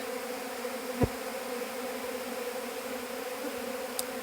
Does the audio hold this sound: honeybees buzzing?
yes